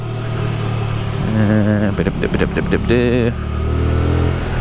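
A Hyosung Aquila 125cc motorcycle engine idles, then is blipped through several sharp revs in quick succession, close and loud, settling back to a steady idle; someone speaks briefly over it.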